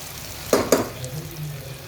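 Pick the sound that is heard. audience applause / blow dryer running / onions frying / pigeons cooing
onions frying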